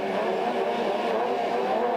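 Race car engines rev together on the starting grid, a dense sustained roar of several machines held at high revs, distant and without any voices over it.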